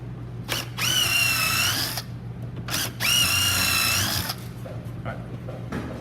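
A power drill bores two holes in a wooden board, each a sustained whining burst of about a second, separated by short pauses and clicks, loud and close.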